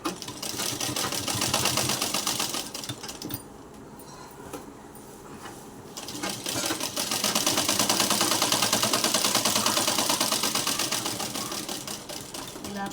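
A sewing machine stitches a satin petticoat with a fast, rattling whir in long runs, pausing briefly midway before resuming loud and close, with faint talk underneath.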